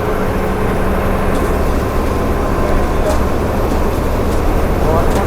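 Inside a KSRTC bus travelling from Belagavi to Goa as it pulls onto a three-lane highway, a loud, steady engine and road roar fills the cabin, with a voice talking over it.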